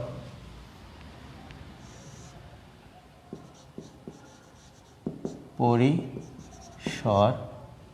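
Writing on a board during a seventh-grade math lesson: soft, faint strokes and scratches spread across the clip, with a few louder bursts near the end.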